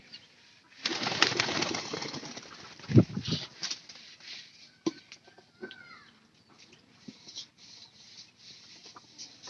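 Pigeons at a nest with a well-grown chick, rustling and scratching as sticks and straw are dragged in, a flutter burst early on, then scattered soft taps and faint calls, close and low.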